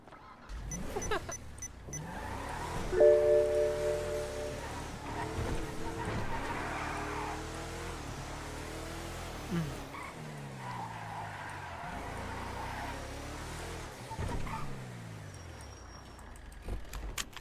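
A car drives in GTA V, its engine climbing and dropping through repeated gear-change sweeps with occasional tire squeal and thumps, a fairly near, continuous motor over several passes.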